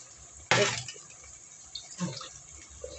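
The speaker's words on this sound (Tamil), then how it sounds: "லேசாக தண்ணி கொஞ்சம் தெளிச்சிடுவோம்" Water sprinkled into a pan of eggplant frying in oil gives a sudden sharp sizzling splash up close, followed by softer crackles and spits as it settles.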